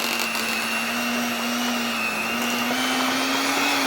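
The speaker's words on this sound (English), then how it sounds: "this mixer was bought strictly for soap making." An electric mixer churns thick rebatched soap with a loud, steady motor whine and a constant hum that hardly changes throughout.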